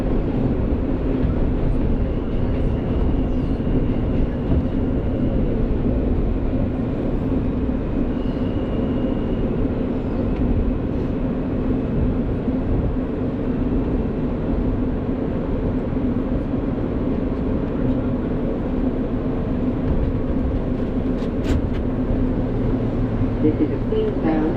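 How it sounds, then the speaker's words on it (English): A Queens-bound New York subway F local train rolls along, giving a steady loud rumble and rattle of wheels on track for the whole ride, with a faint tonal whine drifting in partway through. "This is a Queens-bound F local train."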